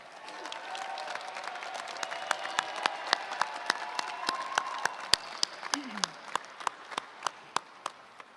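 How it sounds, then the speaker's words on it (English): Graduation audience at a student-athlete ceremony claps in sustained applause for loved ones, a dense steady wash of many hands with sharper individual claps standing out toward the end, fairly close and loud. "give all of your loved ones who are here to support you and who have helped you along your journey a huge round of applause"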